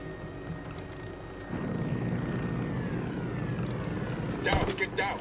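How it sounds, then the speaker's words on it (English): Apache helicopter in the Ghost Recon Wildlands video game, a rumbling rotor and engine drone that swells in and holds steady, with a voice briefly shouting over it. "Down, get down, chopper."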